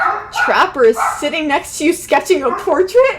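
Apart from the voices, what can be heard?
dogs barking in the background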